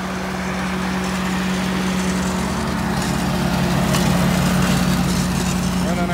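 A Walker lawn mower running at a steady loud drone with a constant low engine hum, close by and unbroken, while a landscaping crew cuts and bags grass.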